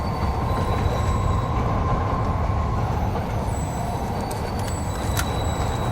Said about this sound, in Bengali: এখান থেকে ট্রেন যাচ্ছে উপর থেকে